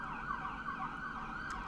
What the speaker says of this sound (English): ambulance noise in the back